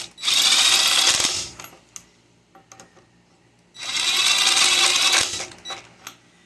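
A Ryobi PCL265 impact wrench snugs down a car's lug nuts in two loud, buzzing hammering bursts of about two seconds each, separated by quieter clicks and handling noises.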